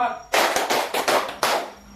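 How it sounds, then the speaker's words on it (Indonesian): A classroom group claps in a short counted rhythm, five or six loud, sharp bursts in quick succession with no talk over them. "Tepuk 1, tepuk 2, tepuk 3, tepuk 4"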